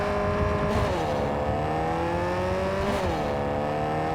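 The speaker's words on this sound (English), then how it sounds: "I love the underlying new turbo sound." Car engine in Cyberpunk 2077 revving hard, pitch climbing and dropping twice with a turbo whine underneath, loud and steady throughout.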